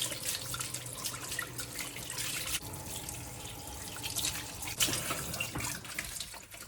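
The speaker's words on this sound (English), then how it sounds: "I've rinsed it with hot water and then give it a good rub, and then I've rinsed it with cold water as well" Running tap water pours steadily into a sink while a filter is rinsed under hot and then cold water and rubbed, a continuous close splashing flow with small shifts.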